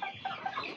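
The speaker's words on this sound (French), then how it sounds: "Ah, et pitié des poules ici." Chickens cluck in a short, close burst of soft, overlapping calls.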